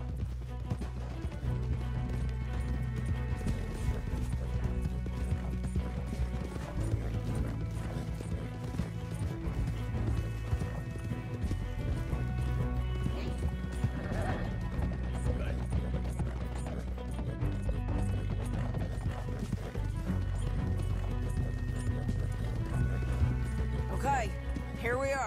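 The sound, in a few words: horses galloping, from a video game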